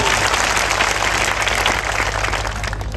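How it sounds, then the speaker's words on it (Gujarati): Steady, loud applause from an audience at a public gathering, a dense continuous roar of clapping that holds throughout with no breaks. "બધા માટે એકવાર જોરદાર આપણે તાળીઓ પાડેલી છે."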